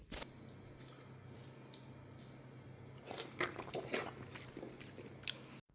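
Someone eats rice mixed by hand with sambar and a piece of potato, with close, soft, wet chewing and squishing sounds that grow louder partway through over a quiet steady background hum.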